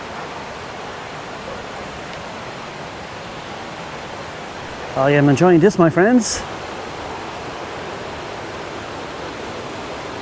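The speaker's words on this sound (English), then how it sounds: "I love the sound of water" A waterfall at Pala-U near Hua Hin sends water rushing over rocks in a steady, broad roar that never lets up, with someone speaking briefly over it midway.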